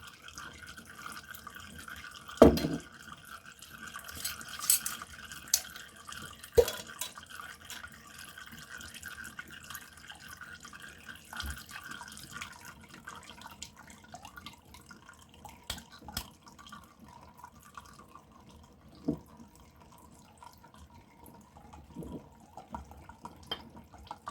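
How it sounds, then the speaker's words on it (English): Homemade salve oil straining through a filter and dripping into a container, with quiet scattered drips and a few sharper splashes over a low, steady background. "I'm just going to let that continue straining"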